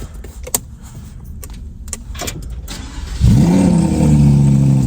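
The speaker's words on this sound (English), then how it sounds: "let's start the car up" Keys jangle and faint clicks, then a Lamborghini sports car engine cranks and roars to life loudly, settling into a throaty, steady idle.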